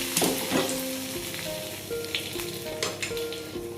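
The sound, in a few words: hot tempering poured into buttermilk curry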